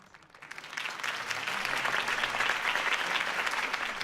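Video game applause from a large crowd at a campaign speech swells up from quiet and holds as steady, dense clapping.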